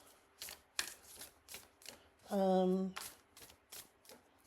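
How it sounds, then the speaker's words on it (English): Healing Spirit oracle cards by Gordon Smith are shuffled by hand in quick, close riffling bursts, with a brief spoken word in the middle of the shuffling. "So these are the Healing Spirit cards by Gordon Smith"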